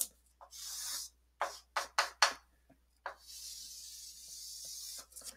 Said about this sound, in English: I'm just going to unwrap it now